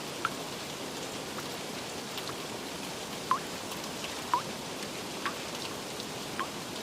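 Steady rain falls in a soft, even hiss of drops on surfaces, with occasional sharper drips and taps rising above it and no voices.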